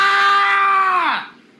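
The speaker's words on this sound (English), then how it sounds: "Permission to scream." A person lets out a single loud, sustained scream that holds steady and then drops away in pitch at the end, heard close and alone without other talk.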